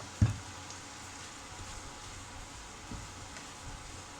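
Liver with vegetables sizzles and frying in a pan with vinegar added, a steady quiet crackle, a clank of the spoon on the pan at the start, then occasional soft stirring scrapes.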